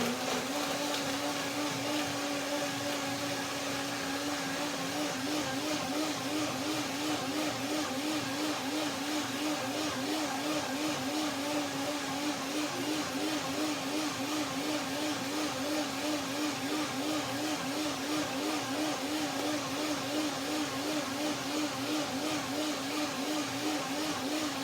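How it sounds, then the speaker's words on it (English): A blender runs steadily, whirring through macadamia avocado mayonnaise with a constant loud motor drone and a slight pulsing wobble, close and unbroken for the whole stretch. "Blender dance."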